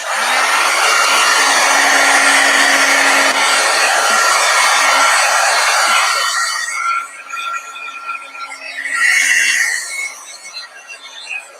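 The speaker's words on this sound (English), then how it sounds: "let me hit this with the heat gun" A heat gun blasts air to dry paint on an art journal page, a loud steady broadband roar for about six seconds that then drops and wavers as the gun is moved or eased off.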